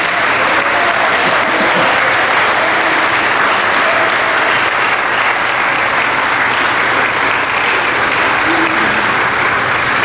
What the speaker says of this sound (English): Let's give these fine young people a round of applause.